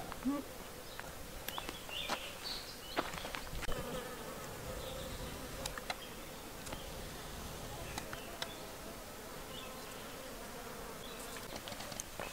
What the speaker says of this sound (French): Et il y a plein d'abeilles dedans. Ah, je les entends, mais je ne les vois pas, mais il y en a plein là-dedans.